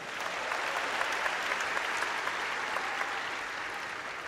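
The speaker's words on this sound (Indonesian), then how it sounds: "Coba berikan tepuk tangan sekali lagi." A church congregation claps together in steady, fairly distant applause, an even wash of many hands heard alone without voices.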